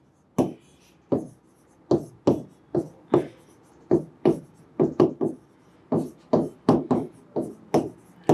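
Pen or chalk strokes tap and scratch in short, separate bursts as a maths solution on Riemann integrals is written out, about twenty crisp, close strikes in an irregular rhythm with no talk.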